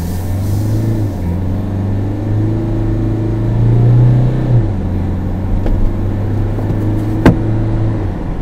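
A Peugeot Landtrek pickup's 1.9 engine drones and revs while driving, a steady cabin rumble that climbs in pitch midway and settles, heard close from inside with a sharp click near the end.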